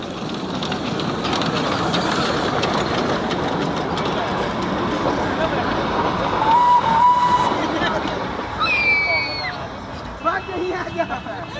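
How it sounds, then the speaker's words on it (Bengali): A Darjeeling steam engine train passes close by, a steady broad rumble of rolling wagons with a brief whistle tone rising partway through; people talk over it. "দেখো এই মুহূর্তে স্টিম ইঞ্জিন আসছে"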